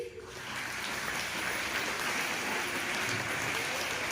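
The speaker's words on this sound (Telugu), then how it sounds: "కాబట్టి వారందరినీ మీరు చప్పట్లతో ఆహ్వానించండి." An audience claps at a prize-giving event, with steady, dense applause that starts almost at once and keeps going at an even level over a faint murmur of voices.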